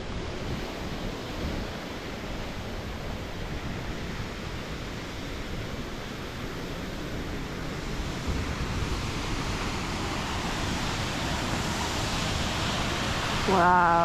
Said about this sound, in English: This is going to be the first waterfall I've actually seen on this trip.